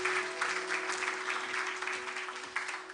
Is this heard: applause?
yes